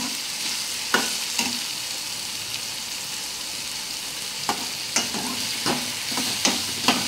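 Garlic and dried red chillies fry in a pan with a steady, low hiss, broken by a few sharp clicks of stirring scattered through the stretch.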